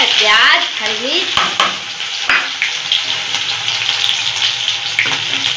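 Onion and green chilli fry in a pan with cumin, giving a loud, steady sizzle with scraping stir strokes throughout.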